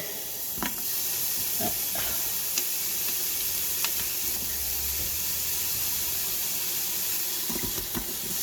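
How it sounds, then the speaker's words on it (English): Onions cooking in butter and olive oil inside an Instant Pot, a soft steady hiss and sizzle with occasional light clicks and scrapes, no talking. "we got the butter in there, got some olive oil, again, a lot of onions, and we're just going to put them all in."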